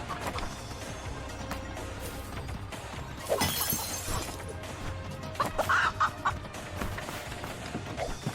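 Chicken clucking in the video game Moving Out, short bursts around the middle and end over busy game music, with a loud shattering crash of breaking items just before.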